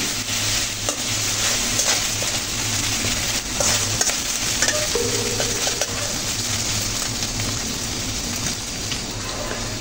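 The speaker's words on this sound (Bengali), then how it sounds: "তো কষে নিচ্ছি মশলাগুলো" Spices being fried down and stirred in a pan for a taki fish curry with potatoes and drumsticks, a loud continuous sizzle with repeated scraping strokes of a spoon against the pan, close and steady with no talk.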